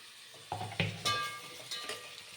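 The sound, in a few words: tomato being added and stirred into frying pan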